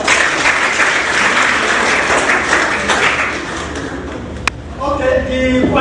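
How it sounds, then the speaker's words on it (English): A live audience bursts into sustained, loud applause at a party presidential primary in Abuja, dense clapping that fades slightly before a sharp tap and a voice emerging at the end. "A round of applause for yourselves."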